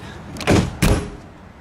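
A door on a mobile pet salon trailer is pushed shut and latched, giving two quick, close, loud thumps about a third of a second apart, with no voices.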